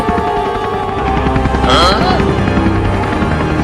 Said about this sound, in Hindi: अब हेलीकॉप्टर को ऊपर करो और डॉक्टर के पास चलो